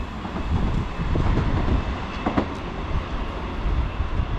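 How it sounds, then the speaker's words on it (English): A South Western Railway passenger train rumbles steadily past at close range through a station, with rhythmic wheel clatter and a brief high squeal partway through, no voices. "passing through now, we've got a South Western Railway service to Weymouth"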